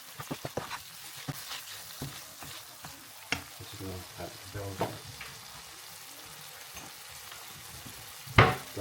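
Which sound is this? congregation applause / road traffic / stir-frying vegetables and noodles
stir-frying vegetables and noodles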